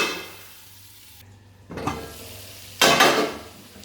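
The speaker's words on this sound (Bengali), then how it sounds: "আলুগুলো আমি লাল লাল করে ভেজে নেব" Potatoes frying in a pan until reddish brown, the sizzle rising in two sharp bursts as they are stirred, with utensil clatter in between and no talk.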